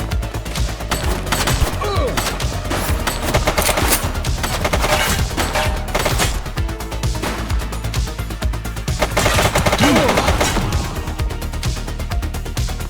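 Gunfire rattles through a shootout in the video game The Precinct, dense bursts of rapid shots and booms continuing almost without pause over game music.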